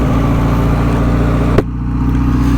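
An Ariel Square Four 600 classic motorcycle pulls away, its engine a loud, steady close-up drone with a deep rumbling hum and a brief knock partway through.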